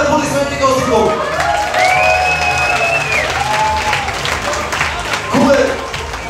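An audience at a Bulgarian wedding applauds and cheers loudly and steadily, with shouting voices and a whistle mixed into the clapping throughout.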